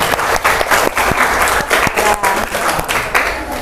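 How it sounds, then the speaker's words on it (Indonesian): Classroom applause for a student group after a poetry reading: steady, dense clapping from many hands throughout, loud and close, with no talk over it. "Tepuk tangan untuk kelompok 3."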